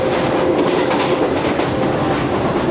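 Shalimar Express passenger train near Lahore rolling along at speed, with a steady loud rumble and faint clickety-clack of the carriages throughout, no voices.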